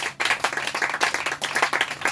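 A church congregation claps together in praise of the Lord, a dense, steady patter of many hands filling the room for a couple of seconds with no voices over it.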